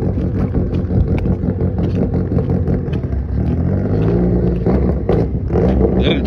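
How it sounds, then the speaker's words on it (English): Idling and revving engines rumble low and loud in a truck stop parking lot, a steady close-up drone that swells and surges a few times, with some wind buffeting the microphone. "Why not listen to some engines?"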